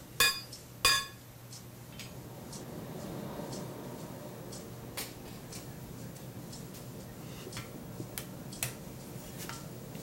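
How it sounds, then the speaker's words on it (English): A rounding hammer with a well-domed face strikes hot steel while a key fob is forged: two sharp, ringing blows up front, then lighter scattered taps over a steady low hum. "It's a rounding hammer I'm using, so one end is domed quite a bit"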